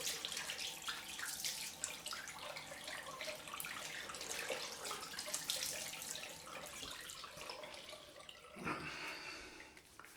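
Water runs steadily from a tap into a sink for a quick rinse of a Merkur 34c safety razor after shaving, a soft, continuous splashing with a brief stronger gush near the end.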